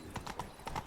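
Roach the horse trotting in a video game DLC, a quick run of four crisp hoof clip-clops in an even rhythm, close and clear over a faint background.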